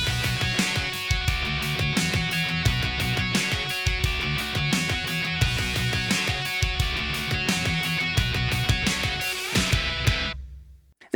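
A chugged, distorted electric guitar riff runs with a high lead line over it and punchy electronic drums, a dense, loud mix that plays steadily before cutting off abruptly.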